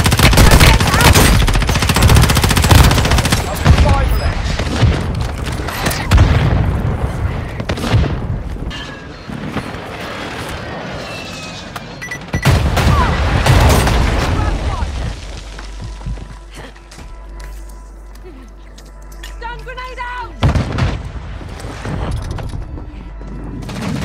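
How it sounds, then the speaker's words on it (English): Heavy explosions and gunfire from a mortar strike in the mobile shooter Warzone Mobile, a loud rolling barrage of booms and rapid shots that fills the scene, with a brief lull partway through before the blasts resume. "Friendly mortar strike inbound."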